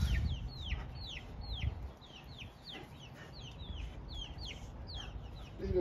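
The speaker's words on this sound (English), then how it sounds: "Leave them chicken alone." Small new baby chickens cluck and peep in a busy chorus of short, rising chirps repeating throughout, close by, over a low rumble of background noise and no talking.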